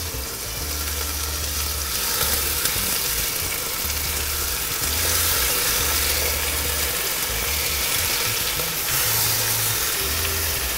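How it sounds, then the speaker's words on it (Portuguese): Pork ribs sizzle in a pot for a fronteiriço-style sauce, giving a loud, continuous frying hiss with a low hum underneath and no talk. "eu tô colocando as minhas costelinhas aqui"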